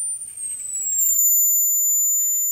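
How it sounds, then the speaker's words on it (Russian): A thin, piercing whistle from an ultrasonic generator at a very high pitch drifts slowly downward and holds steady, with faint low clicks underneath. "это уже невыносимый свист для человеческих ушей."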